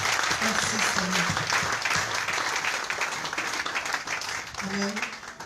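A congregation in a church fills the space with sustained, loud applause, with voices calling out and rising over the continuous clapping throughout.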